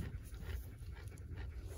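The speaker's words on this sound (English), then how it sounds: "What's that dog doing in your lap" A small dog panting steadily and rapidly while sitting in a person's lap, close and faint in quiet indoor surroundings.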